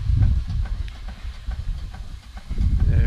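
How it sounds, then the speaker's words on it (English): A Roby stationary steam engine runs fired up at about 30 psi, giving a low, uneven chuffing rumble with a faint hiss, loud and close, easing briefly before surging again. "The Roby stationary engine's got fire in it and steam up."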